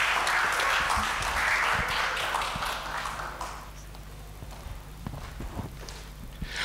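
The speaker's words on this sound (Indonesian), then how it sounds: "kita tepuk tangan semua." A room of university students and guests applauds at the opening of a financial literacy seminar at Universitas Tarumanegara. The clapping is loud and dense at first, then thins after a few seconds to scattered, sparser claps.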